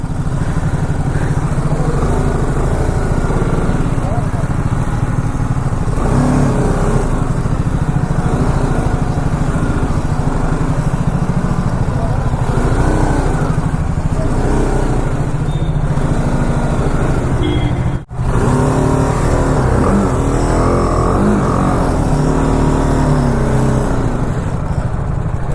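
A motorcycle on a long road ride from Kolkata toward Siliguri, its engine droning loud and steady with wind rush and shifting revs throughout, one brief cutout near the end.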